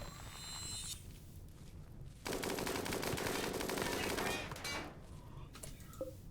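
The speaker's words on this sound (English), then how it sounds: "Let's go shoot that guy in the face a bunch." Rapid automatic gunfire in the colony game RimWorld, a dense steady burst of loud rattling shots lasting a couple of seconds amid quieter scattered fire before and after, with no talking.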